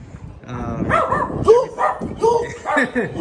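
Dogs bark and yip at a rental house in Matagalpa, Nicaragua, several close, uneven barks over a few seconds, mixed with voices talking nearby.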